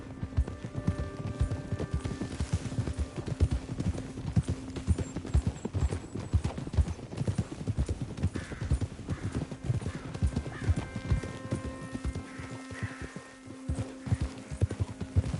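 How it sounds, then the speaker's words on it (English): Horse hooves clip-clop in a steady, busy rhythm throughout, with a horse neighing and whinnying at several points, heard fairly close and outdoors with no talking over it. "Get a hold of that horse, will you?"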